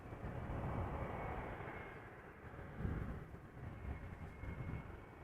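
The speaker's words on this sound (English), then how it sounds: "Embraer 175, KLM flight 1352, arriving from Prague in the Czech Republic" A KLM Embraer 175 airliner arriving at Amsterdam Schiphol, heard as a distant, fairly faint low jet rumble that holds steady throughout.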